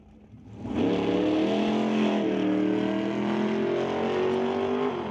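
A 1969 Corvette launches down a drag strip, its engine rising from quiet to a loud sustained roar whose pitch climbs steadily through the run, heard close and alone.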